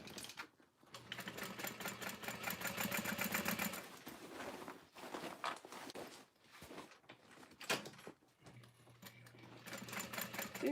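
Sewing machine slowly stitching a seam on a Snow Drop Satchel, with close, steady mechanical whirring runs that stop and start, broken by short pauses and clicks as the fabric is pivoted.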